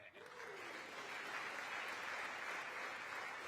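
Sustained applause fills the US Congress chamber after Prime Minister Modi's speech, a steady, dense clapping from a large crowd that holds evenly throughout, heard from a distance.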